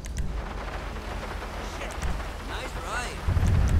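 A thunderstorm with rain in GTA V, steady rain hiss with low rumbling thunder rolls and a heavier boom toward the end, accompanied by faint game engine and ambient sounds.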